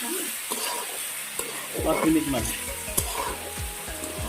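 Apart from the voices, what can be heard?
jackfruit curry frying and being stirred in a pan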